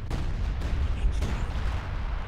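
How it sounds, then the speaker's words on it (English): Explosions and artillery-like booms in a 2v2 tactical video game battle, a steady low rumbling barrage with several sharper blasts, moderately quiet and with no talk over it. "Things are exploding."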